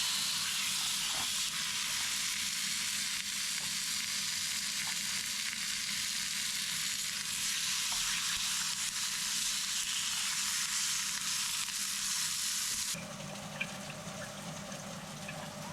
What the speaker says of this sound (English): we're going to fry off the fish